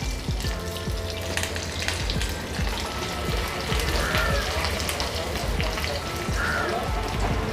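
Curry leaves and dried red chillies sizzle in hot oil with a loud, dense spitting crackle, steady and close throughout, scattered with sharp pops like droplets bursting.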